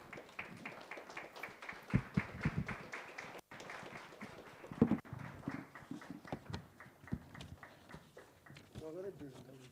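A crowd claps to welcome a government minister at a National Development Plan lecture, a fairly faint, uneven patter of hands with talk running under the clapping throughout.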